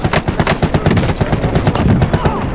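Rapid, loud bursts of shotgun fire from the Call of Duty: Warzone video game, repeated blasts in quick succession filling the whole stretch, close and punchy.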